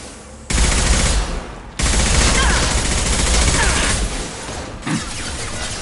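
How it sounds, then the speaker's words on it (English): Gunfire in a Mass Effect 2 combat scene, dense continuous volleys of automatic fire that swell loud, stay heavy with overlapping shots, and ease slightly near the end. "Stop firing at me,"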